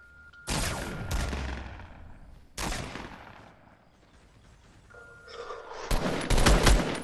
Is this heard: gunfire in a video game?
yes